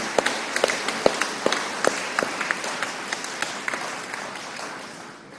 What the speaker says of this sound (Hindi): दोनों हाथ ऊपर उठा के ताली बजा के अभिनंदन करेंगे, स्वागत करेंगे